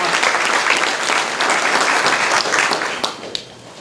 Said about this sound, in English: one more very big round of applause to every single one of you for coming here today